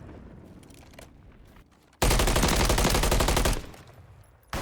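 Loud automatic gunfire erupts in a sustained burst of rapid shots during a competitive esports bomb-site match at a tournament semifinal, cutting off sharply after a quieter stretch of game ambience.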